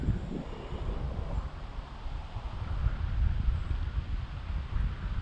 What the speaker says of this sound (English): I really hope that wind's not too much